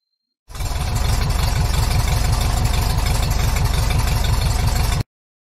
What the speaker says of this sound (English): Number one, a tractor.